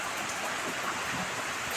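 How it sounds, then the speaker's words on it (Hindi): Heavy rain pouring down without pause, a dense, steady hiss that stays even in loudness from start to finish, with no voices. "आ रही होगी ना आपको आवाज़, लगी हुई है बारिश"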